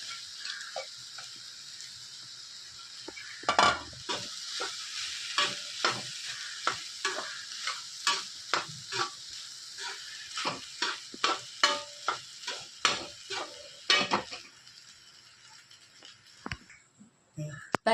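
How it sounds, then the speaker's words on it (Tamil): Leftover idli upma is stirred in a pan with a steady run of close, crisp scraping strokes over a soft frying sizzle, the strokes quickening and growing louder before stopping. "போட்டு ஒரு கிளறிட்டு எடுத்து உரித்து வச்ச இட்லியும் போட்டு கிளறணும்"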